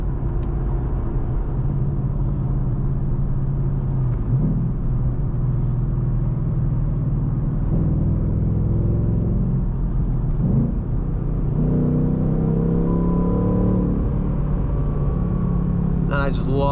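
A deep, rumbling 5-liter V8 engine in a 2019 Ford Mustang Bullitt with a 6-speed manual, in sport mode, drones steadily inside the cabin, rising in pitch as it accelerates, with occasional talk over it.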